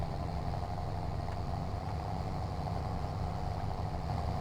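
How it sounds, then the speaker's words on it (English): Modded tractor engine in Farming Simulator 22, a steady mid-pitched diesel drone running evenly and continuously at moderate volume with no other sounds. "Great sound, great looking tractor."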